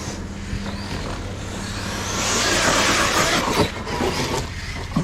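Traxxas Sledge RC monster trucks tear around a dirt RC track, their electric motors whining in a rising, broad roar that swells in the middle and then eases, with a thump partway through, fairly close and with no talking.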